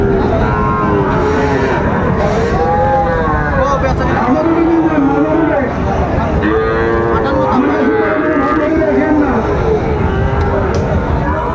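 Loud, frequent mooing from several Sahiwal cattle fills a Chittagong cattle market, rising and falling calls over a constant murmur of people nearby.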